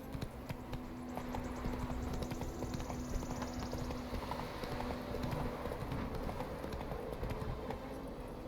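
Roach, a horse in the video game The Witcher 3: Wild Hunt, gallops in a steady run. The hoofbeats repeat quickly and evenly throughout, fairly quiet and blended into continuous outdoor game ambience, with no voices.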